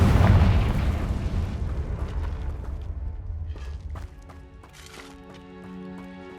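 A Confringo fire spell striking in Hogwarts Legacy, a loud booming blast that rolls off into a fading rumble, followed by quieter clinking debris and a ringing tonal game effect.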